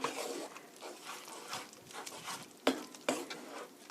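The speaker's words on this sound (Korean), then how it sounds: "1분간 고루 섞어주세요. 이렇게 소스에 간이 될 수 있게." A spoon stirring cream sauce for spaghetti in a pan, soft scraping and wet swishing in irregular strokes with faint sizzling, plus two louder clinks near the end, quiet and close, no voices.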